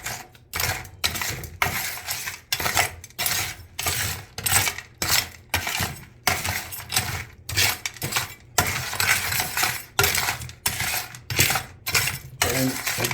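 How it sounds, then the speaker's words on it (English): Hot aggregate soil sample being stirred and scraped off the bottom of a metal pan in a moisture content lab test: continuous dense gritty scraping and clinking with rhythmic bursts, close and loud throughout, no talking. "I'm stirring everything off the bottom, because even when you stir it, it's still hot"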